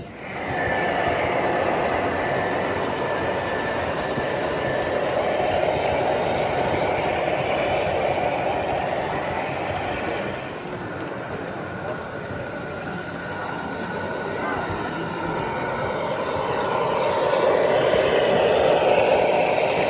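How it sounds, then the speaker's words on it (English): Toy trains run around a big modular layout with a continuous, even rumbling hum, loud and close, swelling and dipping slightly over twenty seconds amid hall ambience. "They have this big modular setup running some toy trains."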